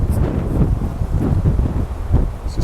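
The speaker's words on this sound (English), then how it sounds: "Here's the wind. It's windy right now" Strong, gusty wind blowing across a microphone on the Appalachian Trail, a loud rumbling buffet that swells and dips in uneven surges throughout, with no talking.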